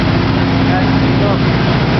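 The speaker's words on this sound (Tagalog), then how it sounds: "Air compressor. Malaki." A large air compressor runs with a steady, dense mechanical drone, loud and close, with a voice speaking over it.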